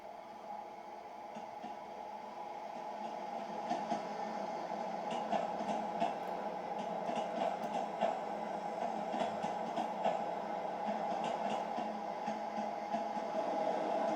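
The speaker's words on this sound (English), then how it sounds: "so today that train's moving" A train in the Train Sim World 2 simulator, set at Brighton Station on a route with class 377 and 443 units, gives a steady, moderately loud rumbling drone that holds for the whole stretch with no talking.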